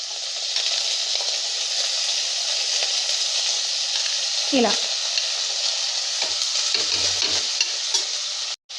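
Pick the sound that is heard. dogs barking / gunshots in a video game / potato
potato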